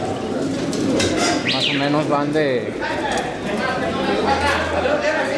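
Racing pigeons coo and flutter in a loft while being basketed for a turf race, a busy mix of bird calls heard under a man's ongoing speech and background chatter.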